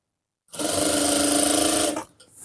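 A sewing machine runs in one steady burst of about a second and a half while stitching a Nihang Singh chola garment, a loud even whir with rapid needle ticking that stops abruptly, followed by light handling noise.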